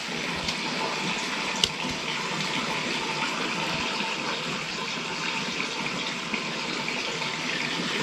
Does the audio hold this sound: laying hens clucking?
no